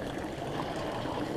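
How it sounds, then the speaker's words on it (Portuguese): Drinking water runs steadily from a public fountain in Zurich, a continuous close splashing stream with no talk over it. "A gente parou aqui nessa fonte, ó, onde tem água"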